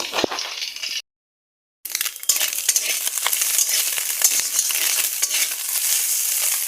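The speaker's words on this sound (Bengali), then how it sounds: "তো দেখো এখানে কিছু একটা মাছ ভাজা বসিয়ে দিয়েছি" A fish coated in salt and turmeric fries in a pan with a continuous bright sizzle and crackle, broken by a brief gap of silence, then steady spitting and popping close by.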